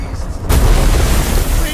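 A heavy underground attack impact from the Vitalys boss fight in A Plague Tale: Innocence, a sudden loud booming rumble that bursts in and sustains, with a player talking over it.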